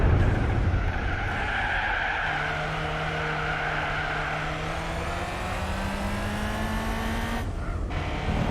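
A race car in Gran Turismo 4 drifts wide with its tyres squealing loudly. The engine drones under a long, continuous skid whose pitch slowly rises before it cuts off near the end.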